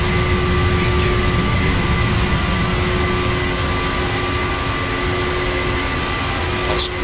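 A jet airliner's engines at takeoff thrust in the Prepar3D flight simulator make a steady, loud broadband roar with a constant high whine, unbroken throughout and with no talk.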